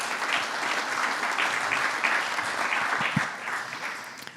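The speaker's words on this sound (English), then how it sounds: "Can we have a round of applause for Captain Pietro, please?" An audience at a captains' forum applauds a speaker, with steady, close clapping from many hands that holds throughout and tapers slightly at the end.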